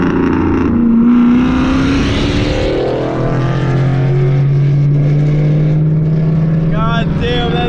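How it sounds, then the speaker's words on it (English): A loud catless 2-valve Mustang GT roars past up close, its engine note rising and then holding a deep, steady drone as it pulls away, while a voice is heard faintly beneath it. "God damn, that dude's car is freaking obnoxious."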